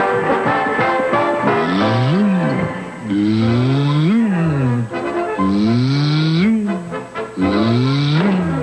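A voice imitates a revving race car engine, rising and falling whines in repeated bursts, loud and close, with growling buzz between.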